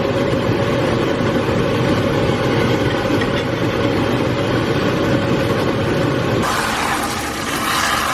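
A kitchen exhaust fan runs over a pan of cooking chicken curry, a loud, steady broadband whir that holds unchanged and then drops to a softer hiss near the end, with no talking.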